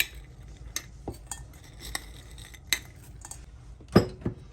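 Cabbage, carrot and beetroot salad with raisins being mixed in a bowl, giving scattered scrapes and clinks of a utensil against the dish at an irregular pace, close and clear with no talking.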